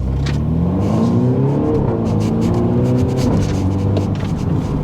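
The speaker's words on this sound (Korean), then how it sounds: "지금 미드인데도 이렇게 뻑뻑뻑 터트리는 블리핑 소리를 내죠" A Mini JCW Clubman's engine revs hard and loud and close, its rising drone sweeping up and down, with sharp exhaust pops and crackles breaking through on the blips.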